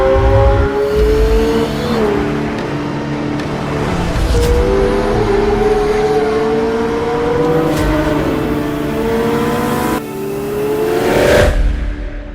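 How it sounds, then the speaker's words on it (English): Aston Martin Valhalla supercar engine revving and driving, with loud rising engine notes that climb through several gear changes, then a sharp rev burst near the end, close and dominant with no talk. "Valhalla is a supercar of extraordinary scope"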